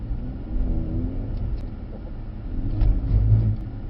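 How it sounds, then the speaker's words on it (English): A Mercedes-AMG C63S E-Performance W206 accelerating hard on a race track, its engine note swelling into a loud, rising rumble from inside the car, with no talk. "let's come round, give it a load of power and see what the car does"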